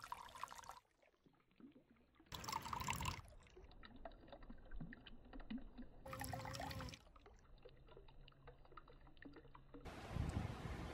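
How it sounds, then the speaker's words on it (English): Water trickles and pours from a small cascade fountain driven by a little submersible pump, spilling down into a bottom basin; faint, continuous splashing close by, interrupted by abrupt cuts and bursts of louder noise. "this little cascade fountain here. It has a little submersible pump in there, and it cascades"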